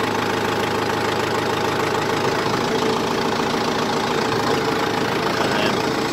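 A Kubota M6040 tractor engine runs steadily with the foot throttle held open while working the loader, a loud, continuous mid-pitched drone throughout with a faint voice in the background.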